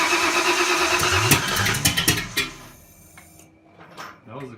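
A Ford Fox Body 302 turbo V8 cranks and catches in a start attempt, firing loudly and roughly for about two and a half seconds with sharp bursts, then dying back to quieter sputters and a brief blip near the end.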